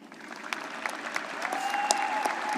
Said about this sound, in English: I ask my fellow Jaguars to give them each a round of applause.